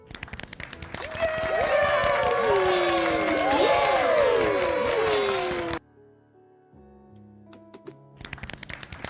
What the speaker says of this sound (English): we'll golf clap that once I can find it